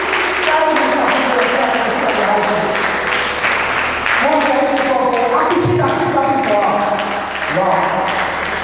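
Audience applause at the Vibrant Leaders Conference 2016, a steady dense clapping wash that runs the whole time, with a voice talking over it throughout.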